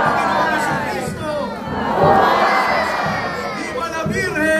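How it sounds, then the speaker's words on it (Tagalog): A large festive crowd at a religious celebration shouts "mabuhay" together, a loud sustained roar of many voices, including children's, rising and cheering. "Sabay-sabay tayong sumigaw na mabuhay."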